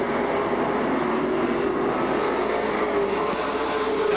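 Pro Stock race cars running nose to tail around Seekonk Speedway, a steady loud engine roar droning continuously without letup, no voices heard.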